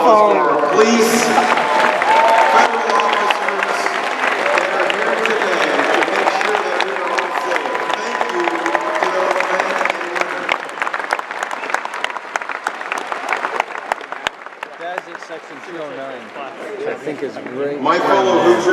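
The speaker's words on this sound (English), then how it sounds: "So let's give a round of applause for our police" Rally crowd in Fort Wayne, Indiana applauding and cheering for police, sustained dense clapping that swells loudly and then thins toward the end, with a speaker's voice carrying over it.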